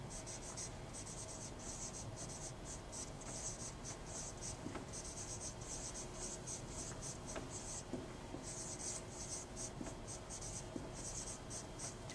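Pencil or pen scratches steadily on paper while a math question is copied out by hand, a soft, continuous, close scribbling in short bursts over quiet room hiss, with no talk.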